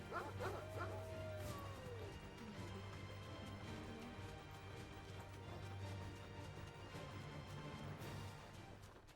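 In Final Fantasy XVI, the dog Torgo barks repeatedly in short, sharp bursts with yips over a low game rumble, fairly quiet in the mix.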